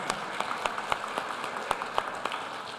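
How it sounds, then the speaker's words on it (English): Scattered applause at a school board of education meeting, with a handful of distinct, separate claps standing out over a quiet room and no dense wash of sound. "Give them another round of applause."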